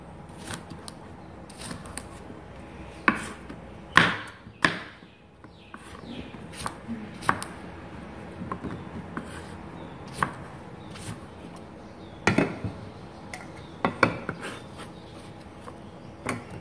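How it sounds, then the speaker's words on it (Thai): A knife chops fruit into smaller pieces on a board in irregular sharp taps, some louder strokes clustered together, close and otherwise quiet. "ถ้าชิ้นมันใหญ่เราก็หั่นให้เล็กลงอีกนิดนึง"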